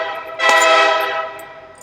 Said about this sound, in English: Did y'all hear that train about scaring me to death?